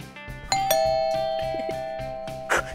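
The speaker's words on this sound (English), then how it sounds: "It sounded like a doorbell!" A doorbell chimes clearly, its ringing tone sustaining and slowly fading, with a few soft taps and knocks around it.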